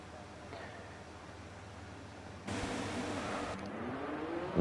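Racing cars pulling out at a simulated Bahrain Grand Prix, a fairly faint engine drone that grows louder halfway through and surges sharply at the very end.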